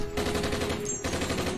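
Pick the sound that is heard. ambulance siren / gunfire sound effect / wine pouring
gunfire sound effect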